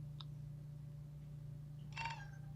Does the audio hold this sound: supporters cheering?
no